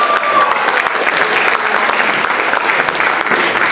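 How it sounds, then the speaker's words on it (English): Loud, dense applause from an audience as performers take their bow after a stage show, sustained steadily throughout without letting up. "Big round of applause."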